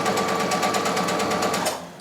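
A sewing machine stitching a welt pocket, running in a fast, even rattle of needle strokes for about two seconds before slowing to a stop, close up and alone.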